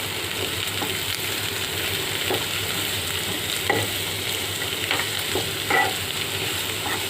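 Grated cabbage and vegetables stir-fried in a pan for homemade spring roll filling: a steady close sizzle with scattered scrapes and clicks of the spoon, no voices.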